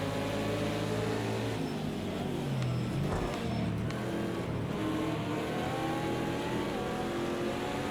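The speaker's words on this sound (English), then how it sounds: "we got NMP1 ripping back through again" An NMP1 race car roars past at Road America, its engine note rising and falling through a loud pass over the constant drone of the Ford Mustang race car underneath.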